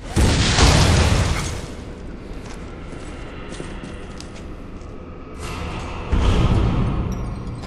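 A missile explosion in the Metroid: Other M video game, with a loud rumbling boom, a lower sustained roar, then a second heavy blast near the end.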